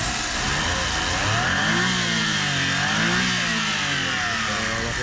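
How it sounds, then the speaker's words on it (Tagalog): A Mazda Scrum Wagon engine with a turbo runs steadily, its mid-pitched hum rising and falling through a few gentle revs, loud and close with no talk over it. "ganda ng andar ng makina natin mga kol"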